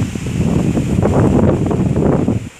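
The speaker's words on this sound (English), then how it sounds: "Gosh, it is windy." Strong Hurricane Harvey wind buffeting the microphone outdoors near floodwater, a loud, low, rumbling roar that swells and gusts across the whole stretch before easing at the end.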